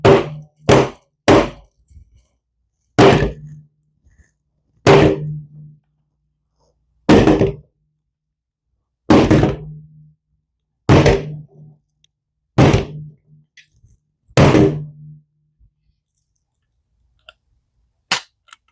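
A Sig P320 pistol is struck over and over in a test to make it misfire, a dozen or so sharp, loud knocks and thwacks spaced a second or two apart in otherwise near silence.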